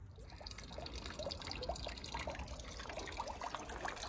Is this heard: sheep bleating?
no